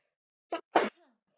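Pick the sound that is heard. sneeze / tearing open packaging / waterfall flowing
sneeze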